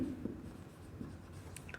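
Chalk or marker scratching across a board during a physics lesson on the Wheatstone bridge, a few short strokes fairly close and steady, with no voices over it.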